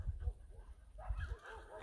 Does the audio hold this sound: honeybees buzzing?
no